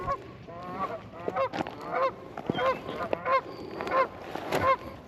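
Geese honk repeatedly in an irregular series near a fishing spot by the water, the calls fairly close and clear with no talk over them.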